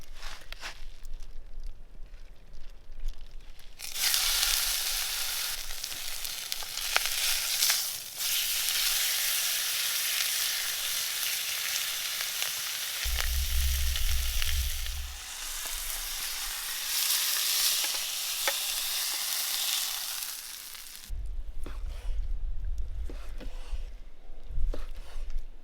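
Steak sears in a smoking-hot, lightly oiled pan over a campfire, the sizzle bursting in loud and crackling for long stretches, easing off in between, with low rumbles and handling noises underneath and no talk.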